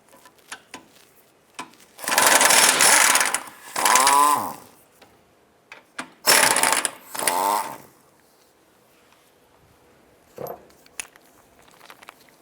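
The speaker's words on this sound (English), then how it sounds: "Remove these two forward mounted bolts." A power ratchet removes bolts from a 2005-10 Jeep Grand Cherokee differential mounting bracket in two loud, rattling bursts, each ending in a whirring wind-down. Small metallic clicks and handling noises fill the gaps between them.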